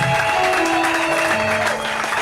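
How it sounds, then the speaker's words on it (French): A church congregation claps at a mission centre's opening service, a dense burst of applause with a few held musical tones running underneath, loud and brief. "On peut applaudir le Seigneur"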